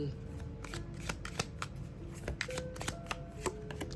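Playing cards are shuffled in a fast run of crisp riffling clicks and flutters, close and continuous, with soft background music beneath.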